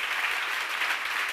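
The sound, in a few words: congregation applauding during a sermon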